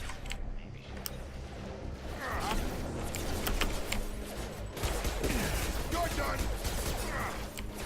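Mass Effect 2 firefight: quiet, rapid gunfire rattles in repeated bursts against a busy game soundscape, with a player talking over it.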